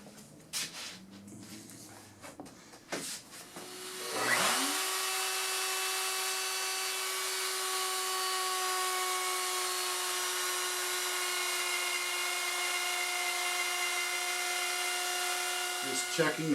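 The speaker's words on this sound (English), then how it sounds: "we're cutting a 3/4 inch dado. So I could do this on the saw, but the boards are kind of long for my saw, and I already had the router set up" A router spins up and cuts a 3/4 inch dado in long boards for a mission-style reloading bench, holding a loud, steady, high whine for about twelve seconds after some brief talk and handling noises.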